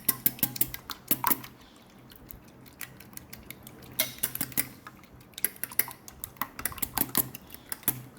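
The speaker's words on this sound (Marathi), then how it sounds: "याला आपण एका काट्याने मिक्स करूया" A fork whisking three cracked eggs in a bowl, giving rapid, irregular metallic clicks and taps against the side in quick bursts with short pauses, close and clear, with no talking.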